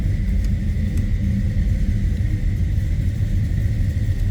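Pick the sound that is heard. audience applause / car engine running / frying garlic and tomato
car engine running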